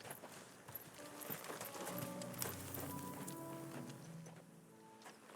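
Horse hooves clip-clopping steadily in the Final Fantasy 16 video game, a clear even rhythm of hoofbeats heard alone over a soft ambient backdrop.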